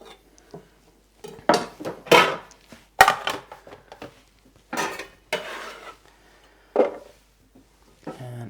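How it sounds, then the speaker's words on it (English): A knife chops carrots, cucumber and peppers into small medallions on a board, giving sparse, irregular close knocks and clicks with quiet gaps between them. "So this part I'll just cut into like little medallions to go in my curry."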